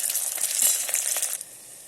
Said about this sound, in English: Now fry the onions till they turn dull golden color.